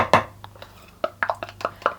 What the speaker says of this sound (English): Scrape out all the sides with my spoon